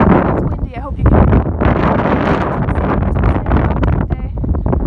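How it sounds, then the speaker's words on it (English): Steady, loud wind buffets the microphone in gusts, with a voice talking over the rumbling noise. "Oh, it's windy."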